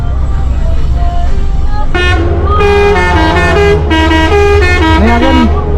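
A Pangeran bus sounds its musical telolet horn, playing several bright melodic toots in quick succession from about two seconds in, loud and close over a steady engine drone.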